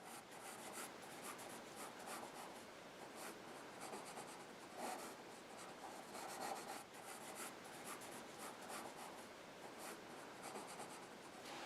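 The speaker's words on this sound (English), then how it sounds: "I'm just going to roughly sketch in the eyebrows here." Colored pencil sketching on paper, roughing in a cartoon bird's eyebrows with steady, continuous scratchy strokes that hold close and even throughout, no voices.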